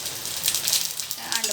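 Egg frying in oil in a pan at home for an egg roll, a steady broadband sizzle with crackling spatter running throughout, with a voice speaking over it.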